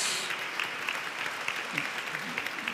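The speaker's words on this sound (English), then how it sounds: "Ďakujem za potlesk" An awards ceremony audience applauding, a steady patter of many hands clapping at moderate volume throughout.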